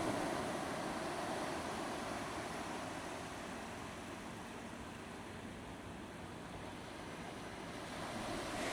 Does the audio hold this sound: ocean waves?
yes